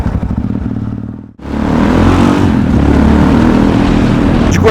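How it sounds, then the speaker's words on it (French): Yamaha XT660X motorcycle engine running, a steady single-cylinder idle that cuts out briefly, then returns as a louder, rougher rumble close to the microphone. "je remonte sur la moto et on va s'entraîner à faire des petits wheelings"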